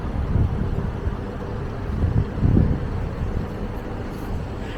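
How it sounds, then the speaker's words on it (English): Gusty wind buffets the microphone at a waterfront, a steady low rumble that swells into stronger gusts around the middle, with no voices over it. "it's quite windy here"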